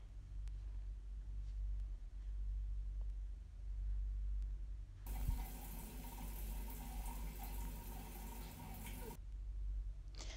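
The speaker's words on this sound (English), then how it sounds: "I'm just going to go ahead and wash my face because I'm prepping my face for the routine" Water from a bathroom tap rushes out in a steady hiss for about four seconds during a face wash, then cuts off, leaving a low room rumble before and after.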